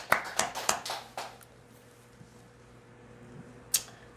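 A church congregation claps during a Sunday service, a burst of several loud handclaps over the first second or so that quickly fades into a quiet room, with one more sharp clap near the end.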